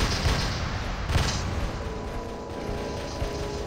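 Robot weapons fire in the War Robots game as a dense, continuous barrage of booming shots and mechanical clatter, loud and unbroken throughout.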